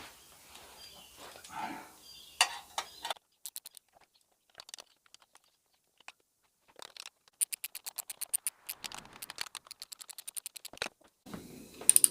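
Ratchet tightening bolts on an Akrapovič aftermarket motorcycle exhaust during installation, heard as bursts of quick close clicking passes separated by quiet pauses and a few metallic clanks, with no talking.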